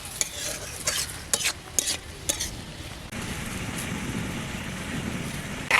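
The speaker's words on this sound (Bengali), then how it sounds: "ভালো করে নেড়ে চেড়ে চিনির রসটাকে একবার শুকনো করে নেবে।" Ash gourd pieces are stirred through sugar syrup in a pan until dry, for homemade tutti frutti: a run of close scraping, clattering stir strokes, then a steady soft sizzle-like hiss.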